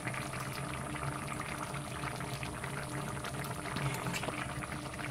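Ridge gourd jol bora dumplings simmer in a pot of boiling water, giving a steady, close bubbling and gurgling that continues evenly throughout with no one talking.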